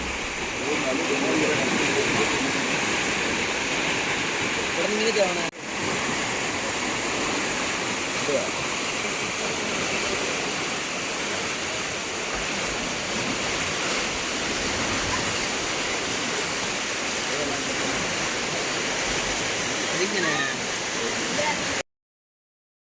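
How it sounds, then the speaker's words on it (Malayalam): River water rushes below Athirappilly waterfall near Thumboormuzhi, a loud, continuous, even roar that holds steady throughout before cutting off at the end. "വെള്ളം ഒഴുകി പോകുന്നതിൻ്റെ ഭയങ്കര സൗണ്ടാണ്"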